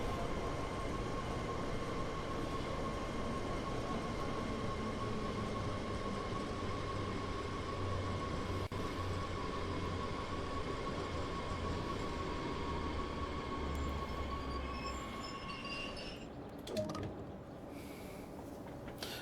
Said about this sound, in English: we've got a freight train rolling in from the portal